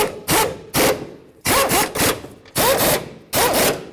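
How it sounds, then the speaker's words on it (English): A torque wrench tightens the shock assembly bolts on a 2008–2012 Jeep Liberty, making short, close, scraping ratchet bursts in an uneven series of about eight strokes with brief gaps between them. "and then we'll torque them up."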